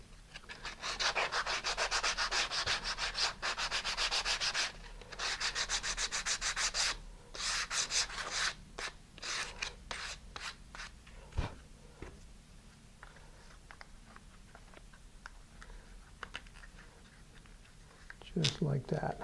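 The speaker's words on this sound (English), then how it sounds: "I just kind of round off the edges of those little tabs" Sandpaper rubs against small wooden tabs to round and bevel their edges, a rapid run of close, rhythmic scratchy strokes that thin out into scattered shorter rubs toward the end.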